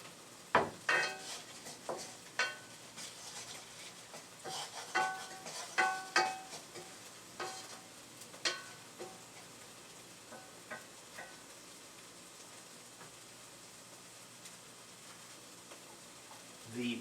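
Onions and diced pancetta browning in a pot for beef bourguignon, stirred with a spoon: a soft sizzle under repeated clinks and scrapes against the pot, busiest early on and thinning out later.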